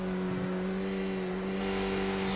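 A race car in a racing game at Laguna Seca holds a steady engine whine with strong, sustained tones, running loud and constant with no voices.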